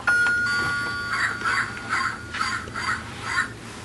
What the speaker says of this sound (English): You still get the doorbell.